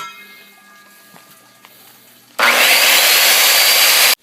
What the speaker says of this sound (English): I'm going to use a skill saw